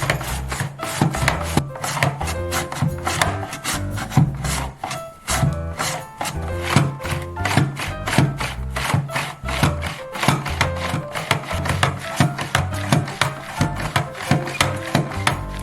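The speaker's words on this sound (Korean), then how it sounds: "깔끔하게 잘 썰리네요. 이제는 많은 양의 채썰기도 걱정 없겠어요." A multi-purpose mandoline slicer cuts vegetables such as green onion, onion and beet into julienne strips, a steady run of quick rhythmic scraping strokes, close and loud, with no talking.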